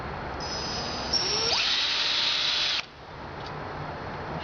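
A power drill zaps a hole through a metal oven part during an oven build, a steady high whine lasting a couple of seconds at close range before cutting off abruptly.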